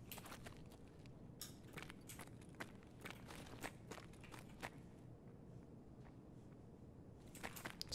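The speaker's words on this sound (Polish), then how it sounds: "Z prawej strony gdzieś mi tu biegnie." Running footsteps of another player in the video game Escape from Tarkov, a steady run of quiet, distant steps over low ambient rumble with no talk.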